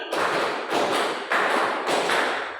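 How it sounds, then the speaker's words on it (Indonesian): A classroom full of students clapping hands together in a group exercise, four loud bursts of many overlapping claps at a steady rhythm, close and lively, with no talking. "tepuk empat dua kali"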